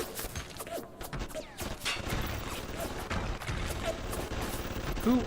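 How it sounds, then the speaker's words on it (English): Gunfire in the video game BioShock sounds as a dense spread of crackling shots and mechanical clatter over steady game ambience, moderately loud throughout. "We're just gonna shoot the camera."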